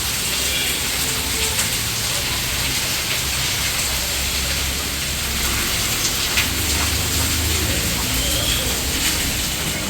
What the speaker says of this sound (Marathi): आल्या पहिल्याच दिवशी जोराचा पाऊस पडतोय